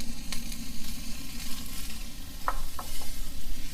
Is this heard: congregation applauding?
no